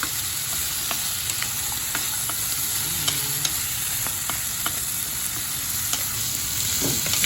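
Pork frying in oil in a pan while Filipino pork menudo is cooked, a steady close sizzle with a few light stirring clicks and scrapes, no voices.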